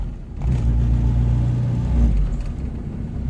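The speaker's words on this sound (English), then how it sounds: "Pushing on the brakes, and I am slowing down." A turbocharged H22 engine in a 1992 Honda Accord rumbles steadily at close range, its low drone shifting slightly in pitch as the car brakes and slows; no voices.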